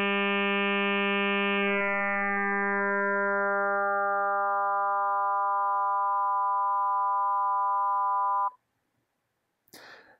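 A basic FM synthesis tone built from two sine waves in Ableton Live's Operator instrument, a steady bright harmonic buzz that sustains about eight seconds and then cuts off abruptly, followed by a brief soft noise.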